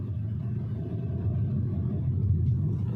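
Hyundai Creta 2024 automatic accelerating in D4, heard from inside the cabin as a steady low rumble of engine and road noise that holds level and builds slightly, with no talking.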